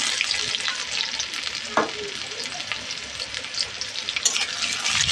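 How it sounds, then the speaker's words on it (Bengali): Onion, garlic and dried chilli frying in a pan for dal while being stirred: a continuous crackling sizzle close up, with a spoon scrape partway through and no talk. "এবার একটু নেড়ে দিচ্ছি একটু পেঁয়াজটা একটু ভেজে নেব"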